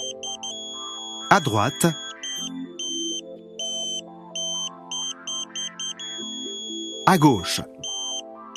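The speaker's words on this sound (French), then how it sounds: "La tonalité doit changer et retourner sur la tonalité continue quand on lâche l'antenne." Pointing tone from a Tooway KA-SAT satellite dish on a mid pole: a steady, loud electronic beeping in short repeated pulses that shifts in pitch and pattern as the dish is pushed, with someone speaking briefly twice over it.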